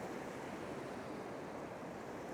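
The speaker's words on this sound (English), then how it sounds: "you've got some waves coming in as well" Steady sea surf rolls in on a calm shore, a continuous broad wash of breaking water with light wind noise, close and even throughout with no voices.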